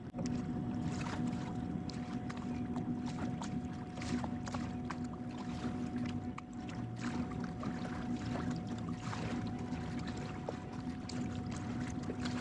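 A quiet, steady hum from a MotorGuide Xi series electric trolling motor on a boat, heading to a new anchor point, with a faint tonal whine running continuously over soft water and wind noise.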